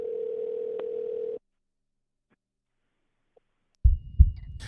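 A telephone dial tone holds steady for over a second while a call is placed to a coin shop, then cuts to near silence before a short burst of muffled handset noise.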